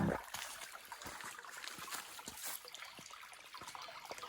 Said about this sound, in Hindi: पानी की आवाज भी है।